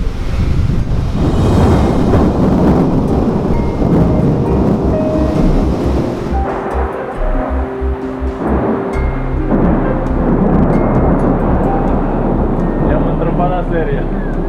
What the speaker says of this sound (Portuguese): conseguimos filmar muita chuva e alguma trovada